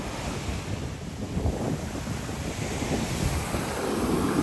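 Waves wash steadily onto a shore, a continuous rushing roar mixed with heavy wind buffeting the microphone, with no voices.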